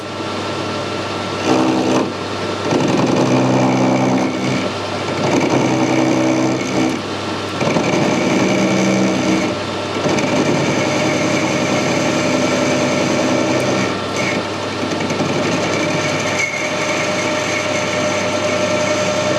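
A metal lathe turns the hex off a steel bolt head, a steady mechanical whir with a cutting hum that holds at a constant loud level throughout, broken by brief dips and no talking.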